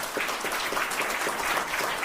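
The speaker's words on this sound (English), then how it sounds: "You're telling me there's that many people they can clap that loud?" Dense, steady applause from a large rally crowd, a continuous wash of many hands clapping at fairly even loudness for about two seconds with no clear voices above it.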